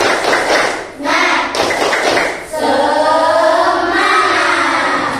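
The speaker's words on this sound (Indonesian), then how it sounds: "Coba kita sama-sama tepuk semangat" A classroom of students claps a rhythmic 'tepuk semangat' cheer pattern in short bursts separated by brief gaps, loud and close, with voices chanting along.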